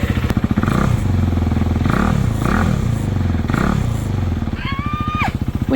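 A KTM RC390 motorcycle engine runs close by, its steady lumpy idle rising into a few throttle blips and then settling back to a rough, pulsing idle.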